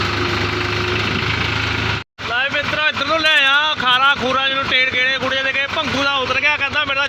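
A tractor works a field being ploughed for maize, its engine giving a steady rumbling hum for the first two seconds before a brief cut, after which people talk loudly over it.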